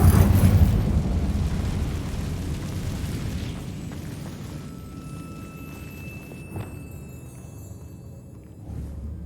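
An Incendio fire spell blast in Hogwarts Legacy: a loud burst of flame and rumble at the start that decays into a long fading roar and crackle, with a few small pops later.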